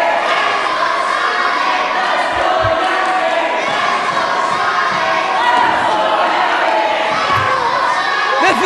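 A loud, roaring crowd at a live SWE wrestling match, continuous cheering and shouting with children's shrill voices, a few thuds from the ring, dense and close throughout.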